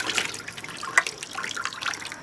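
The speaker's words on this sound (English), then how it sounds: "water spraying out of it freely." Water sprays faintly and steadily from unclogged dishwasher spray arm nozzles, a soft hiss with a small splash partway through.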